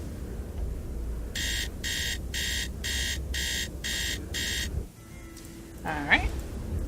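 A video game alarm in a Nancy Drew mystery set in a royal tower sounds as seven evenly spaced electronic beeps over a steady background rumble, followed by a brief rising chirp at the end.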